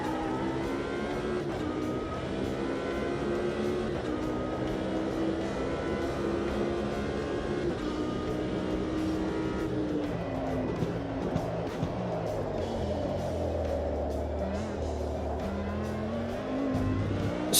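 A race car engine in the sim racing game Automobilista 2 drones steadily at sustained revs, with gear changes and shifting pitch, running with traction control on cold tyres; tyre noise comes in late in the run, continuous and close.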